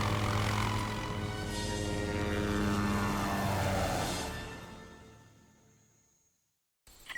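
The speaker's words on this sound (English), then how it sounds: "Now the helicopter is going to try attacking us." An attacking helicopter in the SOCOM US Navy Seals II video game, with a loud rotor and engine roar that swells and then fades away to near silence, followed by a brief sharp burst at the end.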